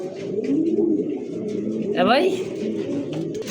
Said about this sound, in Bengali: দুইটাই মাদি, দুইটাই মাদি কবুতর।